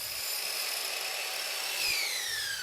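Power miter saw cutting chair rail molding at a 22.5 degree bevel, a steady high-pitched whine with a shift in pitch as the blade bites through the trim, continuous and fairly loud.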